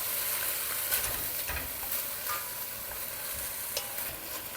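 Browned meat and freshly added sofrito are stirred in a hot pan for an Italian slow-cooked meat sauce, giving a steady, close sizzle with soft scrapes and shuffles from the spoon, with no talking.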